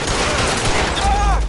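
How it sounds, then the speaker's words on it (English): Machine gun fire in the L.A. Noire video game, a loud dense continuous burst of shots filling the whole moment, with a faint voice-like tone near the end. "Shots fired."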